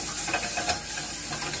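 Butter sizzling in a hot pan on a grill, a steady close hiss with faint crackles, unbroken throughout.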